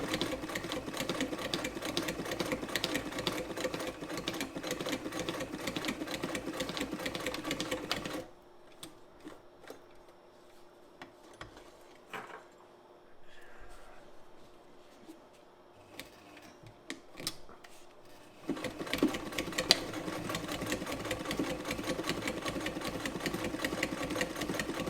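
Frister & Rossmann 35 sewing machine, modified for heavy-duty work, stitching a zigzag through three layers: a steady, loud mechanical whir and clatter runs, pauses for about ten seconds of quiet handling noises, then resumes at full speed.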